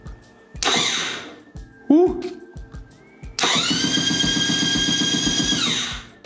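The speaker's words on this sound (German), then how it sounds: "wenn ich jetzt auf den Starter drücke, müsste das Ding theoretisch einfach den Motor drehen" A rebuilt engine with its spark plug removed turns over on the starter motor in two cranking bursts, a short one early and a long steady whir near the end, loud and close, with a brief squeal and clicks in between.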